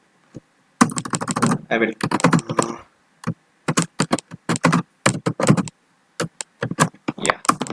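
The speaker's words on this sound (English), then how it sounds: "I will type out the wrong password" A password is typed on a computer keyboard in uneven bursts of close, crisp key clicks with short pauses, while someone speaks briefly over the typing.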